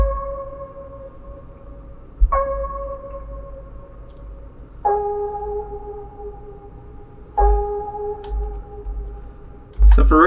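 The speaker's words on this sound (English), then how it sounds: "I just got a key from Dude Clay's Lovecraft kit. It's a one-shot" A one-shot keys sample from Dude Clay's Lovecraft kit plays sustained, soft tonal chords that restart about every two and a half seconds, each held and slowly fading, with a brighter attack near the end.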